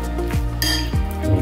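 Bean kofta mixture with salt being mixed in a bowl by hand, with two soft squelching strokes and a light clink against the bowl, close, under a steady background hum.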